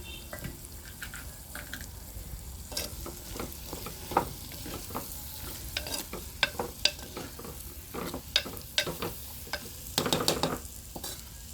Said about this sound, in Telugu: కొన్ని టమాటా ముక్కలు వేస్తున్నాను